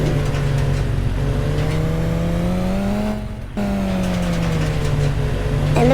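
In the video game Indian Theft Auto, a Kawasaki motorbike engine hums at a steady, loud pitch, rising gradually, cutting out briefly, then resuming at a slightly lower pitch and dipping again near the end.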